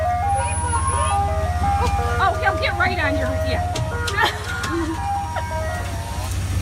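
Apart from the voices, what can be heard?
ice cream truck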